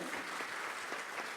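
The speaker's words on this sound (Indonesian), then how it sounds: "Tepuk tangan bagi Tuhan" A church congregation applauds during a Christian sermon delivered in Indonesian, a steady, fairly soft wash of clapping that fills the short moment with no voices on top.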